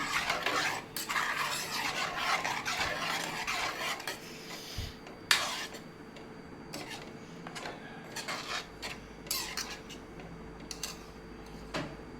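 A spoon scrapes and stirs egg tomato curry around a pot in short bursts, with occasional clinks of metal, fairly quiet and close.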